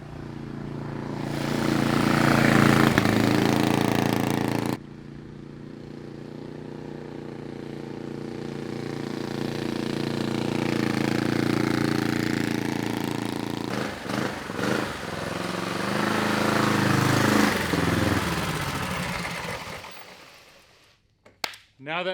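A Tillotson 212 engine runs on a bike during break-in at a steady speed, a continuous loud drone that swells and fades as the bike passes, then drops away near the end.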